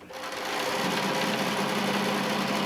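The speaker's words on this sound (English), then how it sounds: "We're going to take it and we'll start stitching it." Sewing machine stitching along a long quilt border on a sunny forest panel quilt, a steady, loud continuous whir that starts after a brief moment and runs unbroken to the end.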